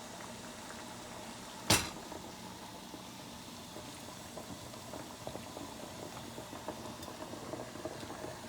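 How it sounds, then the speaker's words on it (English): A car heater core from an Opel GT sits boiling in a pot of water in a home kitchen, giving a steady low bubbling hiss with a single sharp knock near the start and faint pops later. "we are going to boil the heater core in the kitchen to clean"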